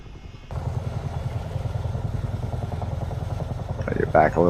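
A Chinook helicopter in a flight simulation game drones with a steady, rapid rotor throb that starts abruptly and holds throughout, with a voice speaking briefly near the end.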